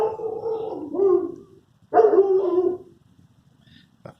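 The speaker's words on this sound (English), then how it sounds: "Of course, that's my dog." A dog barks twice nearby in an open space, each a drawn-out, howling bark with a short pause between them, followed by a faint, brief knock.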